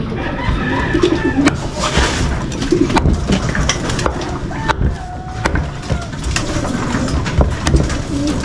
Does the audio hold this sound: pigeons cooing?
yes